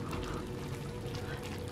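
Water is poured into tomato sauce while cooking a baked chicken cheese macaroni, a close steady liquid pour with a low rumbling undertone throughout.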